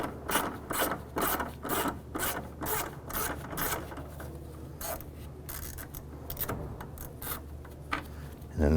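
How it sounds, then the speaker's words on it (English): Mechanical ratcheting and rubbing as a T20 Torx bit backs out a grille bolt near the bumper brackets on a 2005–2007 Jeep Liberty, a series of close, rhythmic clicks and scrapes with no talk. "Using a T20 Torx bit, go ahead and remove this bolt here."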